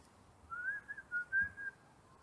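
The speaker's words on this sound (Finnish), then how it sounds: "Se on mörkö, mikä viheltelee." A thin melodic whistle, said to come from a ghost in a haunted house, drifts in a wavering, slightly rising line for about a second and a half, fairly faint over a quiet background.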